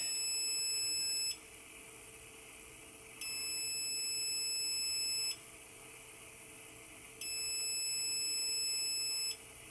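A hybrid inverter's low-voltage alarm sounds a high electronic beep in long repeating bursts, each about two seconds on and two off, over a faint steady hum.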